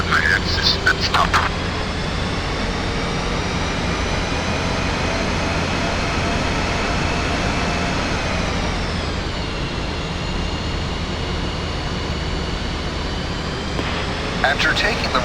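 An F-5E jet in the DCS flight simulator taxis onto the runway, its engine a loud, steady whine and roar that holds throughout, dipping slightly in pitch partway through, with a brief clatter at the start and end.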